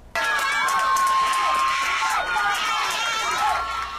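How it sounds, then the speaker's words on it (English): Schoolchildren at an elementary school loudly cheer, whoop and shout together, a sustained crowd roar encouraging third graders as they head off to their state reading tests. "you can see the whole school cheering them on as they head to the computer lab for their state tests"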